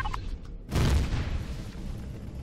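An artillery turret in the video game Empyrion fires a single heavy boom that rolls into a long, low rumble. It is preceded by faint clicks and no voices.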